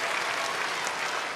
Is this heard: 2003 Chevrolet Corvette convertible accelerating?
no